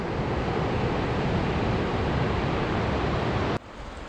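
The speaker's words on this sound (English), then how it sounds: "Here's a look at Fordyce Creek." Fordyce Creek in Tahoe National Forest, swollen like a river, rushing as a steady dense roar of water close by, ending with a brief click and slightly softer flow.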